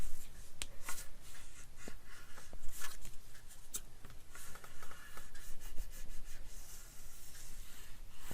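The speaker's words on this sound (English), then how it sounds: "use your bone folder" A bone folder rubs and creases paper close by, giving soft scraping strokes and short scratchy swipes in an uneven rhythm, with a few sharper clicks and light handling noise in between.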